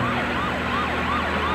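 A police brigade commander's blue car runs its siren, a loud, steady two-tone wail that rises and falls in a fast repeating cycle over road noise, with no voices.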